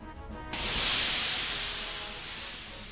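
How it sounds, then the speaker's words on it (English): Steam hisses suddenly to life after a quiet half-second and keeps rushing in a broad, steady spray that slowly eases, heard in a metallic hallway in the game Code: Realize. "We're standing in some sort of metallic hallway surrounded by the constant sound of steam whistles."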